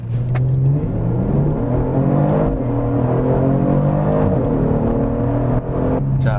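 Genesis G70 3.3T with all-wheel drive roaring through a hard launch-control start with stability control fully off, a loud continuous engine note close by climbing steadily in pitch throughout.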